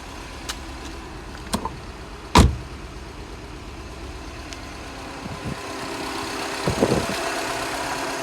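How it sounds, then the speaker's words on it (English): Mini Cooper S engine idling with a misfire, a low uneven rumble broken by sharp irregular pops and a loud stumble, heard alone without talk. "That's definitely got a misfire"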